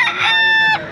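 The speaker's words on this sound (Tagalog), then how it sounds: "dami pa rin mga manok, oh." A rooster crows once, loud and close, in a brief clear call at a busy chicken and pet market.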